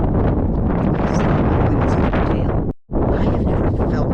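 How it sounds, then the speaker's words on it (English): Powerful wind at Arches National Park buffets the microphone, a loud, continuous rumbling roar with one brief drop out before it resumes at full force. "I have never felt wind so powerful in my whole life."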